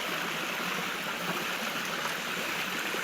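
A fast creek pours loudly and continuously, its churning water holding one even, full roar from start to finish, with no speech.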